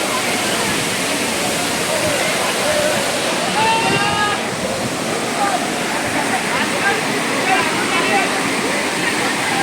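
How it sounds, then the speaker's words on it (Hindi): The Amargarh waterfall pours in a dense, steady roar that fills the whole scene without pause, and faint voices sit beneath the rushing water. "वाटरफॉल"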